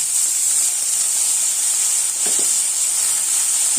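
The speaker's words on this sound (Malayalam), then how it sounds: "ഈ വെളുത്തുള്ളി നല്ലതുപോലെ ഒന്ന് വാതക്കണം പിന്നെ പച്ചമണം മാറുന്നവരെ വരെ വാട്ടിയെടുക്കുക" Garlic and shallots sautéing in a pan give a steady, loud sizzle and hiss throughout, with a brief soft stir near the middle.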